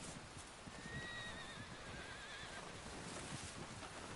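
A horse whinnies once amid steady hoofbeats and a constant rushing background, game audio from Red Dead Redemption 2.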